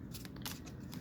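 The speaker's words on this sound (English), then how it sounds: "I will be just shuffling a little more" A tarot card deck is shuffled by hand in a quick run of soft riffling flutters, close and fairly quiet, with no voices over it.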